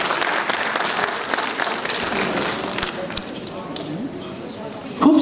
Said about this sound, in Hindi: एक बार इस मंच के लिए तालियों के साथ अभिनंदन,